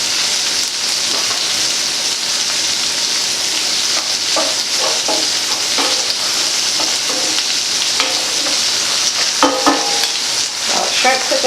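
Garlic frying in a hot pan, a loud continuous crackling sizzle with scattered spattering pops and a few light utensil clinks, with no voices.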